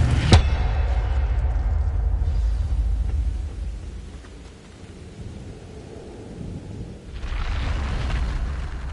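The Incendio fire spell in Hogwarts Legacy bursts open with a sharp crack, then a heavy roaring rumble of flames that fades midway before swelling again toward the end.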